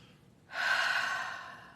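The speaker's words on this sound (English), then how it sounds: "So another nice deep breath." A single deep inhalation taken during a guided morning meditation, close and soft, rising suddenly and then tapering off as the breath fills.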